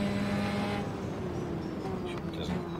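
A Formula Trainer open-wheel race car in Automobilista at Sydney Motorsport Park drones with a steady, loud engine note that shifts pitch slightly as it holds speed, with a voice speaking over it.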